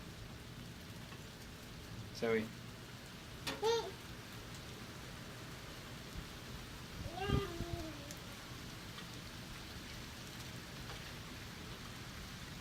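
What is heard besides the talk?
rain falling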